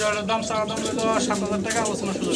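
A large pair of breeding pigeons coos steadily and close, the rolling calls overlapping with a voice talking throughout.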